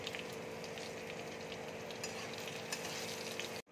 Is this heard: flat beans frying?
yes